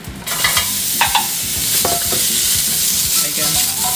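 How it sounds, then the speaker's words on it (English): Frozen vegetables stir-frying in hot ginger oil, a loud, steady broadband sizzle with repeated scraping and tossing clatter from a spatula in the pan. "When it's good enough, you can add vegetable in."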